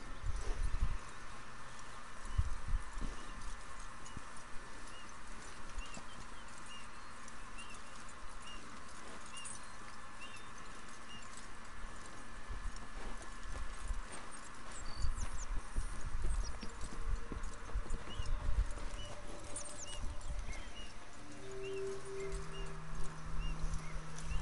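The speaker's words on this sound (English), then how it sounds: "let's lead this horse over there" Horse hooves clip-clop at a steady walking pace in the video game Red Dead Redemption, over a soft ambient hum, with a few faint tonal blips near the end.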